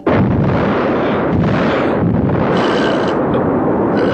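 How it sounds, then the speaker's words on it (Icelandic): Fireworks exploding in a heavy, loud continuous barrage of booms and crackling bursts, close and sustained without a break, with no talk over it. "af hverju er þá verið að skjóta upp flugeldum núna?"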